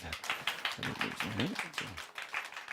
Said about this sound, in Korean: 우리 박수 한번 해주세요